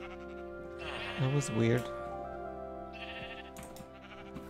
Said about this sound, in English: Come, sheeps, with me.